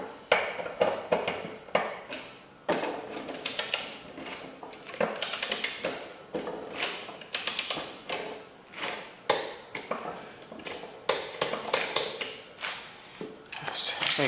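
A torque wrench tightens the blade bolt on a Yard Machines 4.0 HP 21-inch lawn mower, giving a repeated series of close metallic ratcheting clicks in short bursts with brief pauses between them.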